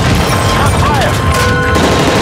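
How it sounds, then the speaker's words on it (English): Gunfire on a hijacked plane during a Call of Duty Modern Warfare 3 mission, with loud continuous volleys of rapid shots, dense and close, under shouting voices and engine roar. "That's gunfire! Hijackers are taking the plane!"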